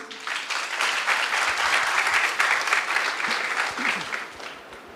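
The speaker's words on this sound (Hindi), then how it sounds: "ज़ोरदार तालियां।" Loud, sustained applause from a crowd, dense clapping that swells and continues steadily before easing slightly at the end.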